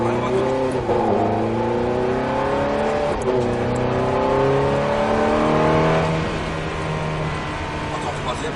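A Ferrari F430 engine roars while lapping a race track, loud and close, revving up through rising pitch sweeps with gear changes, while a person talks over the noise.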